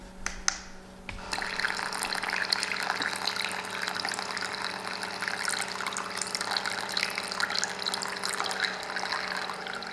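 Water runs from a LetPot automatic plant watering system, a close, steady trickling splash that starts abruptly after a brief quiet moment and continues unbroken.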